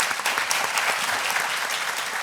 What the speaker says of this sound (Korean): 우리 자장 여러분들께 큰 박수 한번 부탁드리겠습니다.